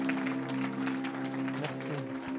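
A church congregation applauds Jesus with a dense, steady patter of clapping, while sustained keyboard chords and voices carry on over it.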